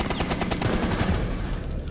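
Rapid automatic gunfire fired through walls in the video game Rainbow Six Siege, a dense, steady rattle of shots lasting the whole moment, close and loud.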